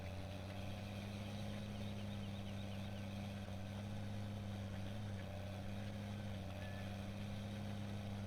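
A tractor engine in Farm Simulator 17 drones steadily at full bore, a low continuous hum with a constant pitch running alone throughout.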